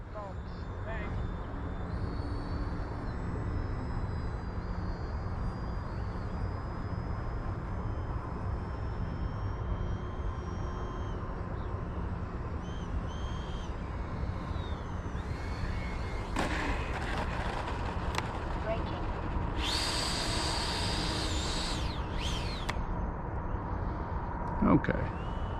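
FMS Futura 80mm EDF model jet making landing approaches, a continuous whooshing ducted-fan whine with outdoor wind rumble and a sharper surge as it passes closer, with voices talking over it.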